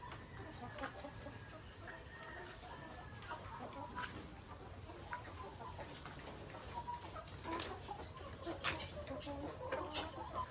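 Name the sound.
chickens clucking on a poultry farm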